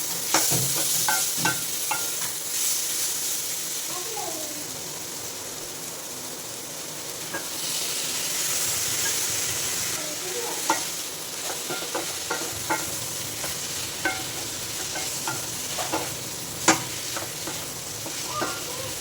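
Eggplant with salt sautéed and stirred in a pan, giving a steady sizzle and hiss with scattered scraping and clinking of a utensil, close and alone without voices.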